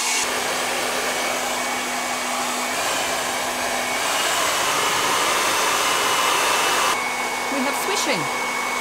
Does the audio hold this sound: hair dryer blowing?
yes